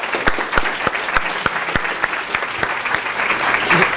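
Audience applause after an improv workshop scene: a small crowd claps with distinct, fairly regular claps standing out over a continuous background of clapping.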